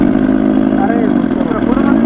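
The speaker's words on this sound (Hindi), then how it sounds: "ये सुपर बाइक का साउंड है।" Ola S1 Pro electric scooter playing a simulated superbike engine sound, a loud, close, throbbing low growl with wavering pitch, held steady over two seconds.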